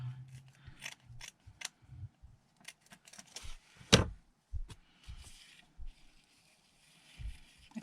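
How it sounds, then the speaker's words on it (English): Scissors snipping lace in half while crafting a calendar page, a few quiet crisp cuts and light rustles spread out amid near silence, with one sharper snap in the middle. "Let's snip this in half."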